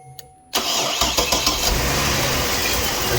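A 2006 Chevy Trailblazer engine cranks and catches abruptly after a brief quiet moment, then settles into a loud, steady idle close by, with no talking.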